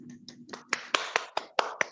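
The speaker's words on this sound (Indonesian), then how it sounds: "mari kita berikan aplaus dan tepuk tangan yang luar biasa untuk narasumber kita" Sharp, sparse hand claps for webinar speakers, about eight or nine close, distinct claps in an uneven rhythm, starting softly and growing louder.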